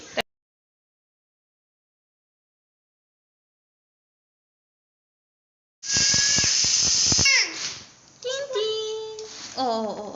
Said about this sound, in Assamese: এতিয়া 5টামান চিটি মৰাই দিম।